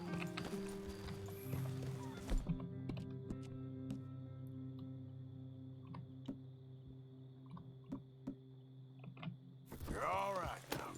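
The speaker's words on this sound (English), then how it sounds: "My horse did teleport here." A horse's hooves clip-clop steadily in Red Dead Redemption 2, soft and moderately near under a low background hum, with a louder burst of sound near the end.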